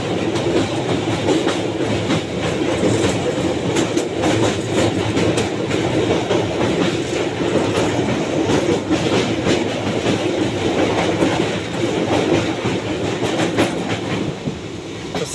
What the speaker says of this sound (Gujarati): અમારે ટ્રેનમાં જવું પડે છે